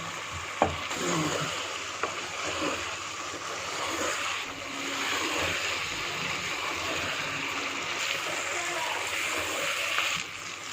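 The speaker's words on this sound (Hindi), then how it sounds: "ये मैं पानी डाल रही हूँ।" Water poured into a pot of chicken curry with arvi, a steady soft splashing and gurgling stream running for several seconds with a few sharper clinks, heard at close range.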